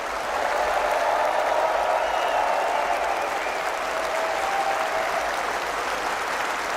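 A live audience applauds during a stand-up comedy set, a dense, steady wash of clapping that holds at a loud, even level from start to finish with no voices standing out.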